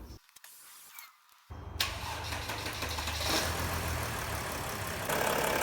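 Mercedes-Benz car with a 722.9 7G-Tronic transmission, engine cranking and catching after a brief quiet stretch, then settling into a steady, loud idle close by with no talking.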